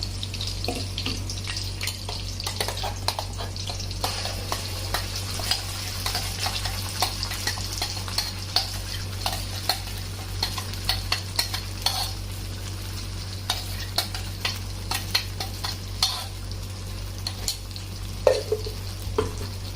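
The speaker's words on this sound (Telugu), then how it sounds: "ఇప్పుడు ఈ మసాలాను ఫ్రై చేసుకున్నామండి. ఈ ఆయిల్లో ఫ్రై చేసేసుకుని" Ground masala frying in oil in a pan while being stirred, a steady close sizzle broken by frequent scraping clicks of the spoon over a constant low hum, with no talk.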